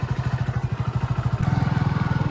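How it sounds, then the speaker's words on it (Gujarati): A motorcycle engine thumps close by with a rapid, regular pulse that quickens and grows louder as it revs and pulls away. "આપણે બાઇક લઈને નીકળી જઈએ"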